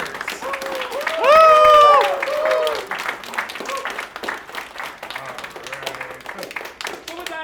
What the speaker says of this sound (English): applause for all the winners